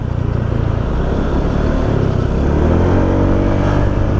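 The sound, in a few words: Honda motorcycle accelerating during test ride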